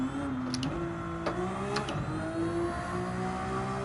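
Race car engine in Gran Turismo 7 accelerating, a steady loud engine tone rising in pitch across a few seconds, with brief gear-shift breaks and no talking.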